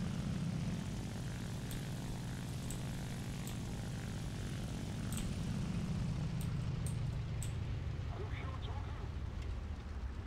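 A Japanese propeller plane in War Thunder comes in to land, its engine roar loud and constant, then dropping in pitch and easing off toward the end, with a few sharp clicks near the finish.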